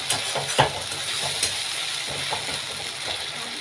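An onion and ginger spice paste sizzles and fries in a pan while being stirred for a chicken curry. A continuous close hiss runs throughout, broken by scraping spoon knocks at irregular intervals.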